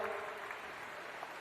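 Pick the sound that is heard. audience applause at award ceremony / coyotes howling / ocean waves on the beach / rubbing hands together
audience applause at award ceremony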